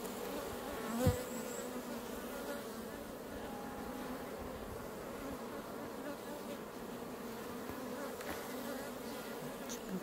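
Dense, steady buzzing of many honeybees around a hive during introduction of a selected queen, a continuous close drone with one brief knock near the start.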